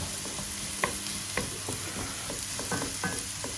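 Garlic toasting in a frying pan gives a steady low sizzle and crackle, with occasional sharp clicks and scrapes of a utensil stirring, close and continuous.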